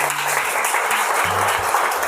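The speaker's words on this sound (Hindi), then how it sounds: "एक बार अपने लिए जोरदार तालियां बजा लीजिए।" Students in a classroom chemistry lesson give themselves a burst of loud applause. Dense, steady clapping fills the whole moment, with a faint low tone underneath.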